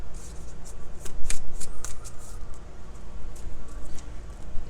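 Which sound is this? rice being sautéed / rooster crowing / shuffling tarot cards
shuffling tarot cards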